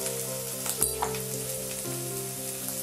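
Dry spice paste fries in a pan with a steady, close sizzle and faint scraping from stirring, alone without talk.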